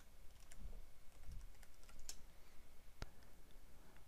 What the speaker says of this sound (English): you can type in that SKU to the right in the Quick Lookup field